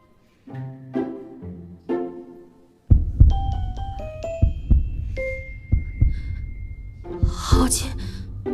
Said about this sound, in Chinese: 为何明明解开了狐媚香，我心跳还是如此快？